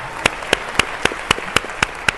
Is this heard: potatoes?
no